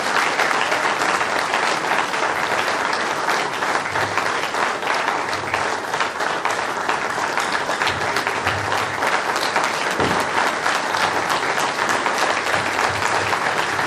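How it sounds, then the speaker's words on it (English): Sustained applause from an audience at a university faculty guest lecture, a thick, even roar of many clapping hands with no pauses, holding steady throughout at moderate distance. "So a big round of applause"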